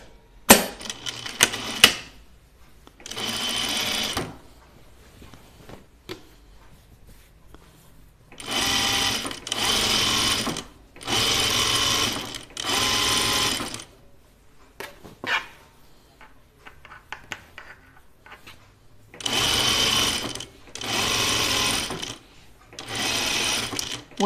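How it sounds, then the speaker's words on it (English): Sewing machine stitching a seam at 3/8 inch on a shirtdress, running in several loud, steady bursts of a few seconds each, with short pauses and faint handling noises between runs. "All right, so now I'm gonna sew it at 3/8."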